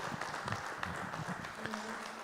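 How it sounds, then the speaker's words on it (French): Applause fills a conference hall at a general assembly of the African biosphere reserves network, a steady mass of distant claps with a voice speaking faintly beneath. "On continue, on applaudit"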